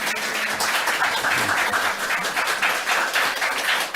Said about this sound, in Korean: 박수를 좀 힘차게